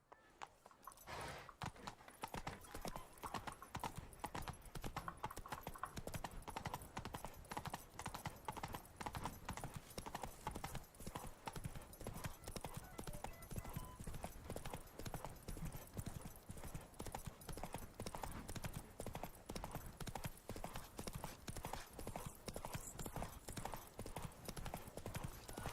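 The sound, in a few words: horse Roach galloping, video game The Witcher 3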